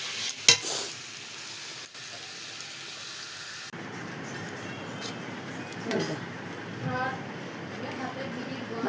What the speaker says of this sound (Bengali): মশলাটা কষে নিলাম।